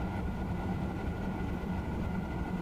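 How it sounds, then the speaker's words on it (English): A train in Train Sim World on the LGV Rhône-Alpes and Méditerranée line rolls past as a steady, dense low rumble, moderately loud and unbroken throughout, with no voices. "that train there, which just passed us, that's the one you get on Train Sim World in that livery"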